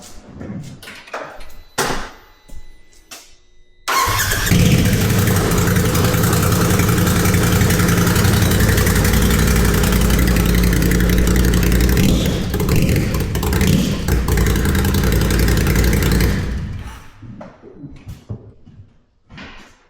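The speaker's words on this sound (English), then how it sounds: "I'll go ahead and start it up so we can hear it without an exhaust." A loud, raw 2024 Polaris RZR Turbo R UTV engine, running with no exhaust fitted, rumbles steadily for about twelve seconds after a few clicks and knocks, then cuts out and fades away.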